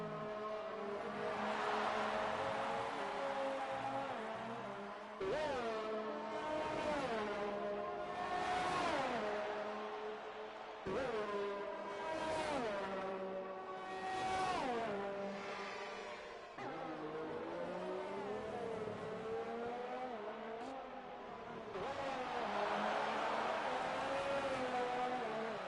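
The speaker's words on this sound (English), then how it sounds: "Let's just take in that engine noise for a little bit" Formula race cars in a racing video game scream steadily at high revs, engine pitch rising and dropping through repeated gear shifts over a sustained, loud drone with no talk.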